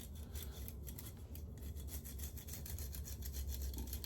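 ManMower beard trimmer cutting through a beard, a close, steady raspy rubbing buzz with quick repeated scraping strokes, quiet and continuous, no speech.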